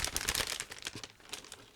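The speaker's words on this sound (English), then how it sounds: "Next, I'm opening one more plastic bag," Crinkling plastic bag being opened while unboxing an ICM 1/48 B-26B Marauder model kit, a steady run of close, dense rustles and crackles with no voice over it.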